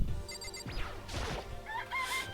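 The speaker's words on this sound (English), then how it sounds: "Is this a chicken coop?" Video-game chicken inside a chicken coop, a mix of rising squawks, clucks and a short crash-like thud, ending with a couple of higher tonal calls, moderately close with no talking.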